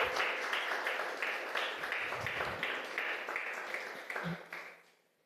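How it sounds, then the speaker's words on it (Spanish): Church congregation clapping hard in praise to God, a dense rhythmic burst of applause that stays strong for several seconds before quickly fading out at the end. "¿Puede darle un aplauso también a eso con todas sus fuerzas?"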